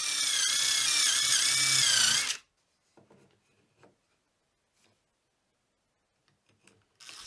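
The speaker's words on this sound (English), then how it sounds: "This one is for drilling the holes accurately so that they'll line up perfectly with the holes that are already" Power drill boring holes through a 3D printed template into a large gear, one loud steady burst of whirring at the start, then near silence with faint scattered handling clicks, and a brief restart at the end.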